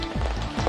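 Rain falling outdoors, a steady, close hiss of drops pattering on surfaces with no break, alone and without speech.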